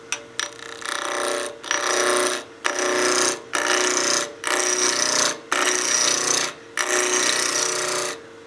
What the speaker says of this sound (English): I'll be using my spindle roughing gouge to rough this down to round